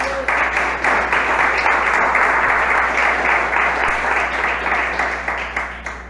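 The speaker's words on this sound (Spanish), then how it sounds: "Denle una fuerte aplauso por eso al Señor." A church congregation breaks into loud, sustained applause during a devotional service, dense clapping that holds steady and then tapers slightly at the end.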